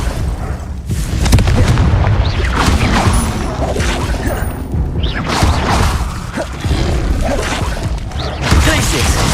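Dense, continuous booming blasts and whooshes from the Confringo explosive spell in the Hogwarts Legacy video game, loud and layered throughout with battle effects.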